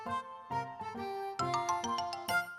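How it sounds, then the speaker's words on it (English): A doorbell rings in a cartoon episode: a series of bright chiming tones, first a few separate dings and then a quicker run of ringing notes, clear and alone. "Just then the doorbell rang."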